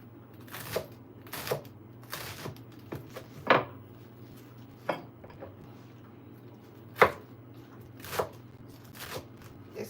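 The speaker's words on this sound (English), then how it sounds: "I'll go ahead and cut the leaves or the leafy part of the callaloo." A very sharp knife chops callaloo leaves on a cutting board, with about a dozen irregular close knocks spaced over a low steady background hum.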